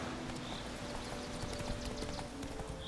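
A horse gallops along in The Witcher 3 video game, its hooves beating in a quick, steady clip-clop that stays close and continuous over faint ambient game sound, with no talking.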